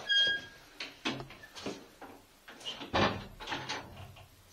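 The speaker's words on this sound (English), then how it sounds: "Want me to close the door?" A door swings shut inside the old Madison Seminary building, one firm knock-like thud partway through, among softer shuffles and clunks of movement in a quiet room.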